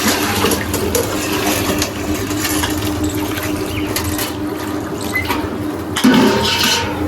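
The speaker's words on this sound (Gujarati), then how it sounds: "તો જો આપણે લઈ રહ્યા છીએ અંદર પાણી." Water pours into a large bowl with a steady close gushing and splashing, the flow shifting slightly in tone as the bowl fills, with a brief clunk near the end.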